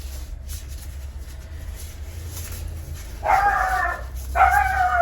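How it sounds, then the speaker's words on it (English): Faint low hum fills the background, then two whining, yelping barks from a dog come in quick succession near the end. "That's my neighbour's dog, sorry about that."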